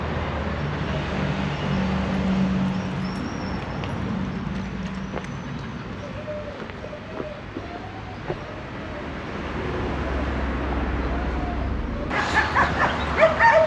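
Galgo rescue dogs at a rescue centre give a few scattered barks and soft whimpers under steady outdoor background noise, with a louder burst near the end.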